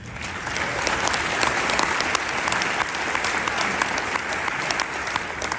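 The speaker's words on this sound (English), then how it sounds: "give a round of applause to everybody who is on our team, who is working here" A business conference audience gives a sustained round of applause for the event team, steady dense clapping that swells after a moment and holds at moderate loudness throughout.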